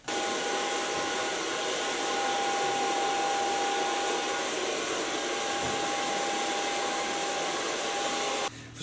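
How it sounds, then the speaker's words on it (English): A hair dryer blows steadily on hair during a short platinum blonde styling session, a loud constant whooshing hum with a thin whine that runs unbroken for several seconds before cutting off at the end. "So far blow drying."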